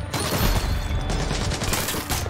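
Dense, continuous gunfire in Ghost Recon Blacklist, a rapid volley of shots blending into a loud sustained barrage with no talking.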